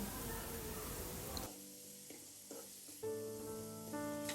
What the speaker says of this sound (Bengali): পেঁয়াজ হালকা ভাজার পর কেটে রাখা টমেটো সাথে দিয়ে হালকা ভেজে নিব